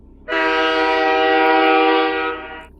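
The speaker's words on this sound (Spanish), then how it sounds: "escuchamos por fin el silbato lejano del tren" A long, steady, distant train whistle sounds in the desert of Zacatecas for over two seconds, with a clear tonal pitch, then fades out.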